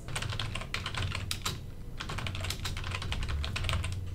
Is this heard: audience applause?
no